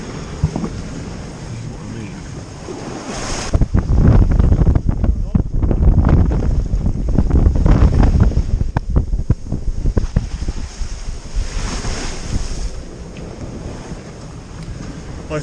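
Heavy weather at sea aboard a small sailboat steered by a wind vane on a solo Azores passage: loud, roaring wind buffeting the microphone with the rush and slap of waves, surging strongest through the middle, with someone talking over it.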